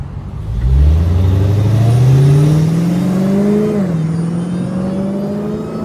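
A Dodge Hellcat drives on an open road, its supercharger whine rising steadily in pitch as the engine pulls, then dipping briefly and settling into a sustained drone with wind noise.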